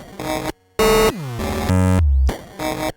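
Randomized miniBit chiptune synth patch on an iPad: harsh 8-bit tones in abrupt blocks with pitch sweeps and sudden gaps, loud and close, no voices.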